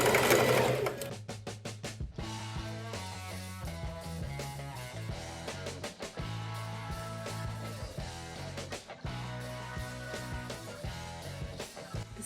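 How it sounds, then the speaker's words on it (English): A sewing machine runs in steady, fast stitching bursts with brief pauses while sewing a reversible bucket hat made from thrifted pants, its motor whir close and clear with no talk. "I'm going to sew all the way except here, so I can turn the whole cap from this part and top stitch."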